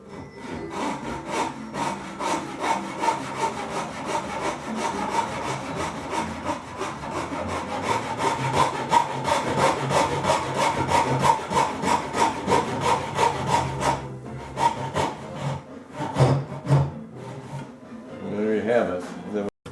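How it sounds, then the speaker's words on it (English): A hand saw cuts a dovetail in wood for a saw bench, a steady back-and-forth rasp of rapid repeated strokes that fills most of the stretch, close and loud, before easing off near the end with a few scrapes. "I'm cutting the dovetail now."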